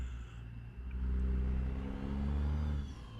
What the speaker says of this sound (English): This truck, in a confined, echoey space,